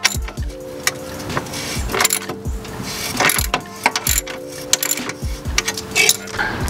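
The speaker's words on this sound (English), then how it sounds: "I'm gonna go ahead and tighten that down" Rapid, repeated ratchet clicking comes in close, rhythmic bursts while the nut on a car's sway bar end link is tightened, along with metallic clinks and tool handling noises.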